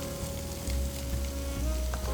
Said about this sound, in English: We got some red peppers. We got some celery. And we're gonna put some onion in there.